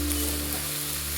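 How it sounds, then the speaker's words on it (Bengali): Banana flower sizzles steadily in a pan over a low gas flame as it is stirred, a dense, even frying hiss heard close up without pauses. "মোচাটাকে নাড়তে থাকবেন।"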